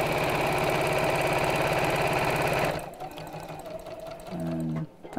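A sewing machine stitching tape onto a child's apron runs steadily and loudly for nearly three seconds, then stops. A voice speaks over quieter handling before a short final whir.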